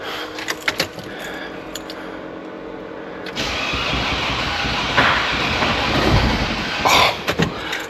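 A car engine cranks under repair, with choppy starter bursts, then catches and revs loudly, its RPM climbing in an uneven, close-up roar that runs to the end.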